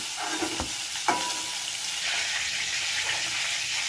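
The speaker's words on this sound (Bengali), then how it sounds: "এই হালকা লালচে করে পটলগুলো ভেজেছি।" Continuous near sizzle of pointed gourd (potol) frying in oil, with a couple of brief knocks early on as pieces are moved, then an even crackling hiss; no voices.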